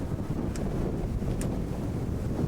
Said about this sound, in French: le vent qui est ultra fort qui pousse